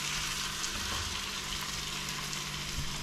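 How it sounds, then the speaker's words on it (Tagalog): Beef sautéing in a pan for caldereta, a steady dense sizzle of frying meat that holds even and continuous throughout, close and fairly loud with no talk over it. "Igisa-gisa lang po natin yung saglit hanggang maging golden brown po ang ating beef."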